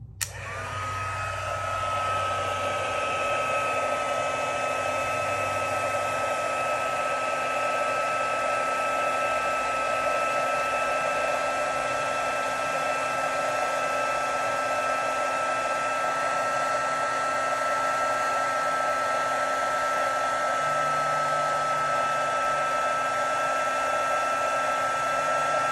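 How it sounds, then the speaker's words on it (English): Stampin' Up! heat tool on setting 2, blowing a loud, constant airy whine that begins abruptly and holds steady throughout, close up, with no talking. "I'm gonna bring in my Stampin' Up! Heat tool. I'm gonna put it on setting 2."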